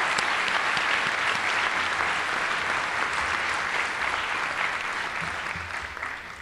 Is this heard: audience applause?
yes